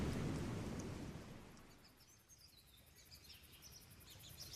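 Thunderstorm sound effect in a retelling of The Tempest: a loud rumbling roll of thunder fades away, leaving soft rain hiss with faint high chirps.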